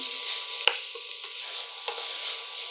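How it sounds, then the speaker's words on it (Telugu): Ginger and garlic pieces frying lightly in oil, a soft steady sizzle with a few faint stirring clicks, quiet and close, no voices. "అల్లం వెల్లుల్లి ముక్కలు జస్ట్ దోరగా వేస్తే సరిపోతుంది"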